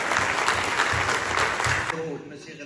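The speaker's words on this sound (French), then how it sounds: "Je propose qu'on applaudisse bien fort les enfants" An audience in a hall at a children's prize-giving ceremony claps vigorously for the winning children, a dense burst of applause that stops abruptly after about two seconds, leaving faint room noise.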